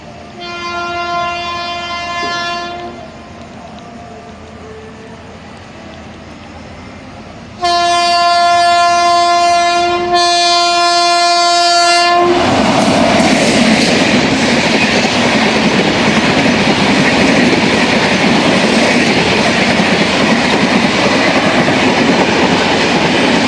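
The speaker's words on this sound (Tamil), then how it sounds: "ஒரு எக்ஸ்பிரஸ் ட்ரெயின் வந்துட்டு இருக்குதுங்க" The Meenakshi Express, a Tirupati to Rameshwaram train, sounds its loud horn in two long blasts, then roars past a level crossing close by with a heavy, steady rumble of wheels and wagons.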